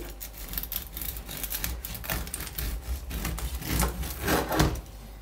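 Knife sawing through a freshly baked grain bread loaf with a crusty, browned exterior, giving dry rasping strokes that rise and fall close up.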